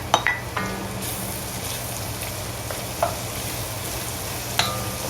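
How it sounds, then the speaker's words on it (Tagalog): Garlic and onion sauté in a pan, a close, even sizzle with a few sharp clinks and stirring scrapes scattered through it, no voices. "Medyo lulutuin lang po natin ng ating onion."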